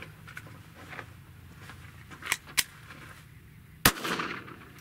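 A Glock G44 .22 rimfire pistol fires a few sharp, isolated shots at an outdoor range, the last one loudest, with quiet pauses between them.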